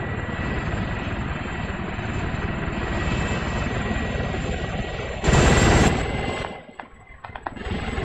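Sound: helicopter in video game ARMA 3

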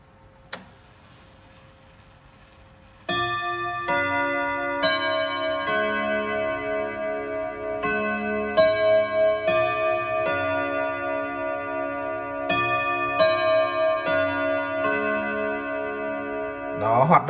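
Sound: Odo 54 clock chime ringing

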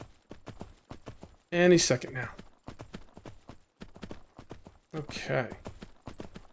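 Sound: horse hooves clip-clopping while taming a horse, from the video game Myth of Empires

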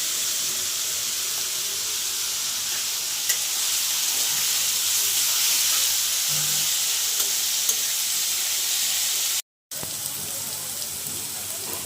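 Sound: vegetables with turmeric frying in a pan

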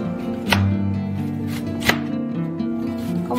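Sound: knife slicing onion into julienne strips

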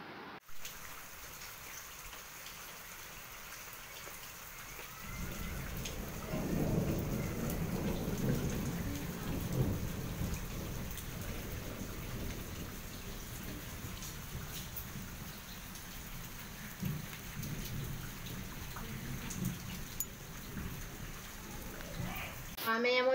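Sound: heavy rain with thunder

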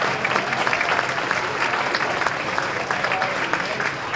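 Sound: audience applause at jazz coffeehouse concert

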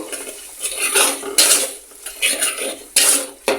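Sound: stirring and frying bitter gourd pangas fish curry in pan

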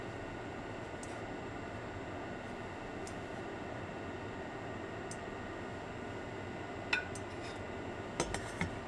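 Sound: taking boiled eggs out of the pot

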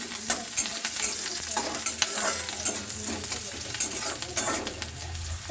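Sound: water spinach frying with onion and garlic in hot wok

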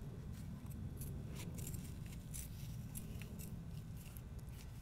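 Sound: scissors cutting out material

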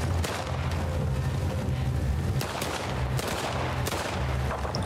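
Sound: gunfire in the video game The Last of Us Part 2

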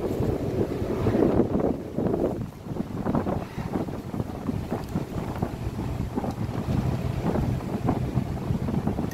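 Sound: engine of a First South Yorkshire bus in motion

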